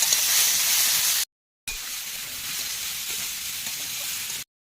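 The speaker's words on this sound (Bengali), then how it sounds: "তেলের আলু আর পটল দিয়ে দেই, ভাজা ভাজা করে নিই" Potatoes and pointed gourd fry in hot oil with a loud, dense, close sizzle that cuts out briefly, then resumes steadily before stopping abruptly.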